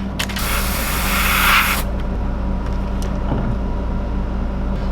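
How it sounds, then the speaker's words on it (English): A spray bottle of isopropyl alcohol gives a single short hissing spritz at the start, followed by quiet background hum and faint handling sounds. "Give it a spritz of isopropyl alcohol."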